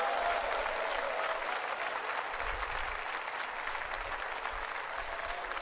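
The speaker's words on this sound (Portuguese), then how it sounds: "Só quem está feliz dá uma salva de palmas para o Rei Jesus." Applause from the audience at a church men's gathering fills the hall as a dense, sustained crackle of many hands clapping, steady throughout and slightly easing toward the end.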